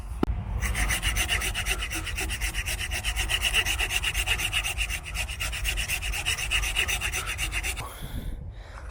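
A small hand wood saw cuts through a tree branch in quick, even back-and-forth rasping strokes, close and loud, stopping abruptly near the end.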